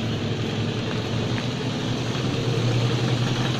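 An old car engine idles just after starting, a steady, even, low rumble with little variation, heard close and continuous with no talking.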